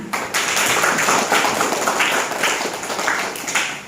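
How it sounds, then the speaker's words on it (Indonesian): Applause from an audience at an anti-drug awareness session, a dense, steady wash of many hands clapping together, loud and continuous for about four seconds with no voices on top. "Tepuk tangan."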